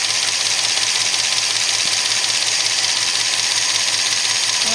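A Studebaker car engine idles steadily at about 650 RPM just after its first start, a constant close mechanical hum with a light rattle and no talk.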